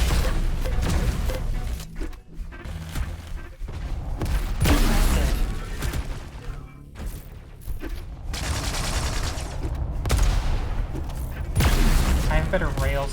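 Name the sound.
grenade explosion and gunfire in a video game, likely Quake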